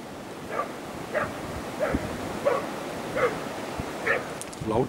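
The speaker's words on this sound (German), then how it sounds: "jetzt gibt der Hund schön laut, jetzt ist er dran." A hunting dog bays at wild boar in a reed bed, giving about eight bursts of barking at a steady pace over a soft windy background. The dog sounds moderately distant.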